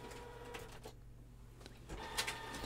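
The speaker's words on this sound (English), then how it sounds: "my printer's just about to go, so I've just turned it off so it doesn't disturb us" An indoor home printer whirs and clicks in short mechanical bursts, with brief pauses between the sounds, fairly faint against the room tone.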